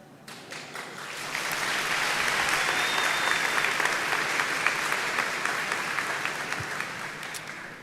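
Church congregation applause at a Sunday Mass starts with scattered claps, then builds into full, dense clapping that holds steady and loud before easing slightly.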